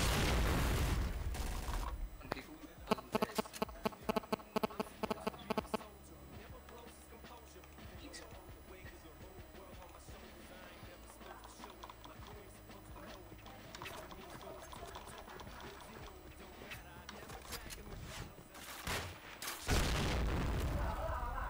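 A grenade goes off in a first-person shooter, a loud boom at the start followed by bursts of gunfire and scattered mechanical clatter, with a voice talking over the game sounds.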